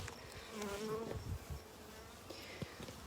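Honey bees buzzing at the front entrance of a hive, a close, continuous humming drone that swells and fades softly, with no talking.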